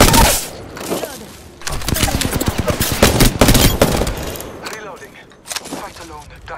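Loud, close machine gun fire in a video game rattles in sustained bursts with a few breaks, mixed with heavy impacts and occasional voices under the shooting.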